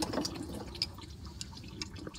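Coolant draining from the radiator of a 2003 Dodge Ram 1500 5.7L Hemi 4x4: a faint, continuous trickle with soft irregular drips, close by and quiet.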